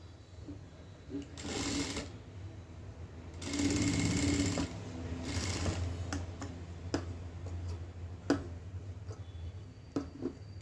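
A sewing machine stitches fabric for a decorative hanging. Rapid mechanical whirring comes in bursts, separated by brief pauses and scattered ticks and clicks, close by with no talking.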